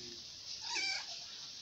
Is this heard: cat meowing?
yes